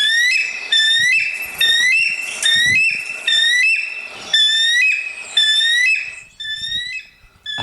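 An eagle gives a run of loud, high whistled cries, each sliding downward. They repeat steadily about once a second with no voices.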